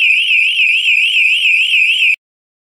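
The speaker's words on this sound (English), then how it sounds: "the TPAS 3 or SC500 LW will go into full audio alarm and transmit the alarm to the supervisor's SC500" A Grace TPAS 3 / SC500 LW lone worker device in full audio alarm emits a loud, piercing warbling electronic tone that wavers rapidly in pitch, holds steadily for about two seconds, then cuts off abruptly into silence.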